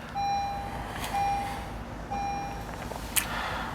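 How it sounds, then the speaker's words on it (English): A 2022 Honda Pilot Touring sounds its startup chime after the start button is pressed, three clear electronic beeps at an even pace over a low cabin hum, followed by a brief click. "Put your foot down on the brake and hit the start button and watch everything light up like Christmas."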